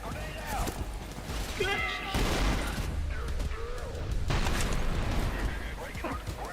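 A grenade explodes amid gunfire in the Trepang2 video game, with sustained bursts of shots and booms over a dense battle din while shouted voices carry over the chaos.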